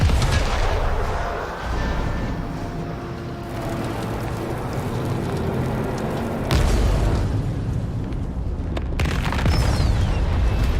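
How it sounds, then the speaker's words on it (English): Explosion in the Mass Effect video game: a loud, sustained rumbling blast with crackling debris, followed by a second heavy boom and sharp bursts toward the end. "show us the explosion"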